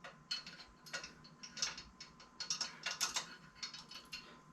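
A BowFlex Revolution leg curl attachment rattles with faint, irregular metallic clicks and ticks that come in short clustered bursts throughout a quiet room.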